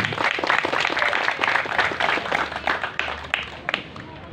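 An audience at a Betawi silat cultural gathering claps for an honored official, a sustained round of crowd applause with scattered louder claps, rising and falling over several seconds.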